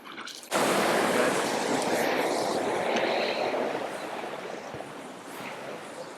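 A river swollen after weeks of rain rushes loudly and steadily, a dense broadband roar of water that starts abruptly and holds close and strong throughout, fading slightly toward the end.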